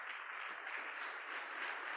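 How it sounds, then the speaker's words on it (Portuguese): A church congregation applauds, producing a steady, distant wash of many hands clapping together at a fairly faint level, without pauses. "Se você queria aplaudir o Senhor no nome de Jesus."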